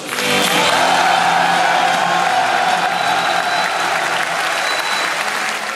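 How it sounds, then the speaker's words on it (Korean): An audience of soldiers at an army cultural night gives loud, dense applause mixed with cheering and whoops, sustained and fairly close throughout. "뜨거운 함성과 함께 박수를 한번 쳐줍시다"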